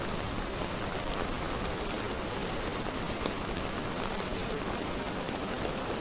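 Rain falling on a market street in Mongkok, Hong Kong, a steady, even hiss of drops on surfaces, moderately quiet and continuous with no voices.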